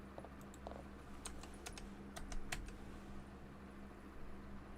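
Quick, light key clicks from a computer keyboard come in short, irregular bursts, faint and close against a quiet room hiss.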